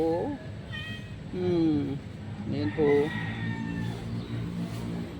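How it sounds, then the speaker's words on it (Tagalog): A pet cat meows repeatedly at close range, several drawn-out cries spaced a second or so apart, while a person speaks briefly nearby. "Napakakulit na pusa."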